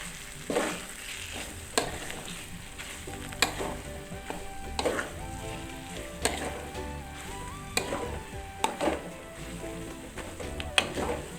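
Ground spice paste for beef rendang sizzles steadily in a hot pan, a continuous loud frying hiss broken by regular scraping and stirring knocks from a utensil, with no voices.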